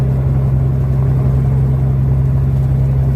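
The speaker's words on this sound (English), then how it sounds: "Not too exciting, just a wheel loader loading." A wheel loader runs steadily at a laydown yard while loading material, its engine a continuous close, loud diesel rumble with a strong low hum and no breaks.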